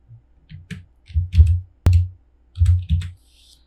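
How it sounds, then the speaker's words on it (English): Someone types on a computer keyboard in a quiet room, with soft, close keystrokes arriving in short irregular clusters and pauses between them. "So I am typing something."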